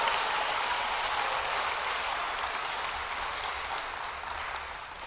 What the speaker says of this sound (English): a final round of applause for our 8th grade Dean's List